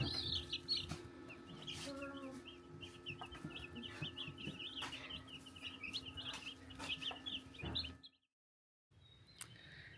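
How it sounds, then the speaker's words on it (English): Young chicks, some mail-ordered and some home-hatched, cheep faintly and continuously in high repeated chirps, with soft clucking and a steady hum behind, before the sound briefly cuts out near the end. "We got new chicks, some through the mail, some we hatched."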